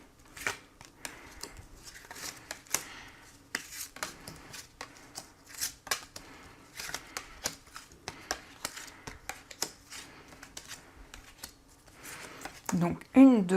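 Tarot cards are handled, counted out and laid down, giving close, quiet papery slides, flicks and soft taps in an irregular rhythm, with a faint tone near the end.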